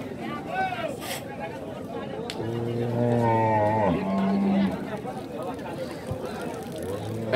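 A Red Gir dairy cow gives one long, loud, close moo lasting a couple of seconds, amid talk from people nearby.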